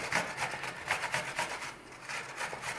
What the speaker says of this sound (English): we want to be grating up some apple